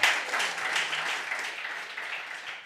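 A studio audience applauds during a French television comedy game show, a dense, steady wash of many hands clapping together that holds for a few seconds and eases slightly toward the end.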